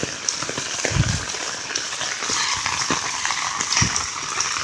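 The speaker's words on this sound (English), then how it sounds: "Look at the water coming down Waldron." Floodwater running down a residential street, a steady rushing gush with splashy bursts, continuous and moderately close.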